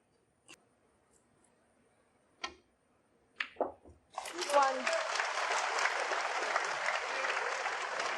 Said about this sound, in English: you can hear the big cheer from his supporters